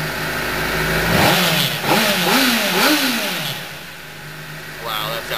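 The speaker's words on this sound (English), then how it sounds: "But you hear the engine here." A 2007 Honda CBR 600RR sport motorcycle with about 3,500 miles revs up several times in rising and falling surges, loud and close, while a person talks over it.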